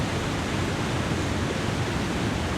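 A roaring video game waterfall, a loud, dense and steady rush of falling water that fills the whole scene without pause, with no talking over it.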